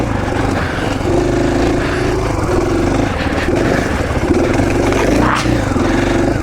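Off-road motorcycle ridden across high desert OHV terrain in Central Oregon, its engine droning steadily and close throughout, with the pitch rising and falling in short surges as the throttle changes.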